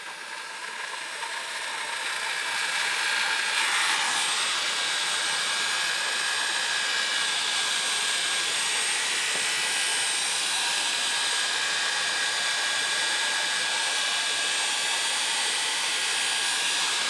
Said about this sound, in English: So let me get my heat gun.